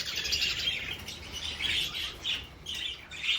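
A pet budgerigar in its cage gives soft, quick chirps and twittering in scattered short bursts, fairly faint against a quiet room.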